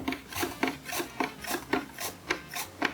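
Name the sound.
slicing onion on a mandoline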